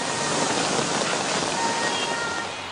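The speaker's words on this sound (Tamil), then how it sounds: "புறநகர் பகுதிகளிலும் 1 மணி நேரத்திற்கு மேலாக மழை பெய்தது" Heavy rain pours steadily in a dense, even hiss without pause, loud and close, with no voices over it.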